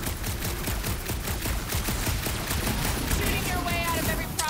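Rapid bursts of gunfire ring out as Peter Quill shoots his way through a fight in the Guardians of the Galaxy game, a loud, steady stream of shots that ends in a short whine.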